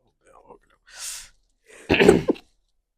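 A single sneeze bursts out near the mic, preceded by a couple of quick breaths or sniffs.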